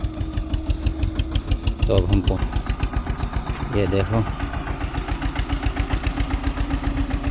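A tractor engine idles with a steady, rhythmic low chugging throughout, close by, with someone speaking briefly over it near a muddy pond-side track.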